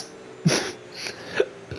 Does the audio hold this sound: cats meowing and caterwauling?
no